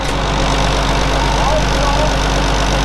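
A Massey Ferguson 2725 tractor running slowly during silage work, a steady low diesel drone with a continuous hum throughout, close and loud, with voices talking over it.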